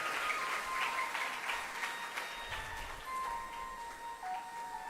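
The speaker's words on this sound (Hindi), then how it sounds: "तालियां तो बड़ी ऐसे मरी मराई बज रही हैं कि हाथ पर मेहंदी लगा के आए हो गया" A gathered audience at a religious discourse claps lightly and unevenly, a thin patter of scattered applause that stays fairly even throughout, with no talk.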